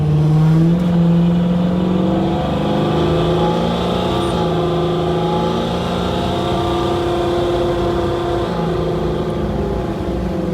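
A supercharged Ford Mustang Foxbody with an automatic transmission makes a wide-open-throttle pull. The engine drones loudly and climbs steadily in pitch, with two distinct gear shifts dropping the tone before it rises again, close and continuous.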